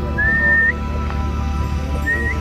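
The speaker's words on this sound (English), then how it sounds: "Oh, somebody up there whistled." Two short rising whistles come from someone some distance uphill at an East Baines River rest area, separated by a pause, over a steady outdoor background hum.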